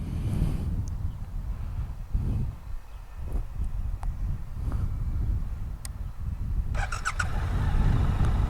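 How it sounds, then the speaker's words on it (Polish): A Suzuki GSX-8S motorcycle engine runs steadily at idle, a continuous low rumble close by with some wind noise and a few brief squeaks near the end. "silnik bardzo ładnie pracuje"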